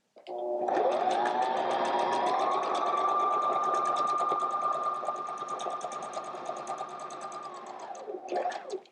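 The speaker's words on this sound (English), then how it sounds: "I am going to just sew a few pieces on here and show you how that goes" A sewing machine stitches quilt pieces with gray thread, whirring up to speed and running in one steady, close burst for several seconds before winding down and stopping.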